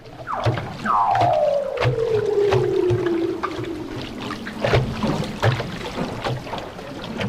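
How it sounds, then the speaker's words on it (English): Leopard seals calling underwater around a boat's hull, picked up by a hydrophone: long, loud descending glides sweep down in pitch one after another, with softer clicks and pulses between them. "it were leopard seals playing around the hull, and they make the most intriguing sound"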